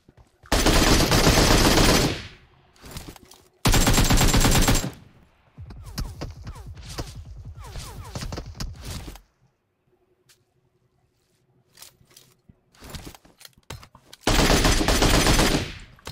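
Bursts of MK12 rifle fire in PUBG Mobile, rapid loud volleys in several separate strings with quieter pauses between, including a near-silent gap before a final burst.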